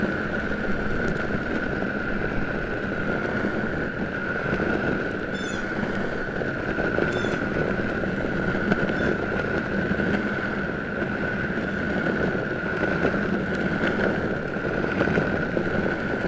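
Meepo Cyclone 105s electric skateboard rolling on street wheels, a steady rolling rumble with a constant airy whistle from wind passing through the holed wheels, continuous and fairly loud, with no talk.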